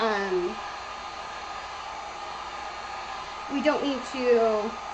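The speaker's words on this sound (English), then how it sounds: "I'm going to just hit her with the heat gun for just a quick second" A heat gun blows steadily to dry paint on a flamingo-shaped door hanger, a constant airy whoosh running the whole time, while someone speaks briefly at the start and again near the end.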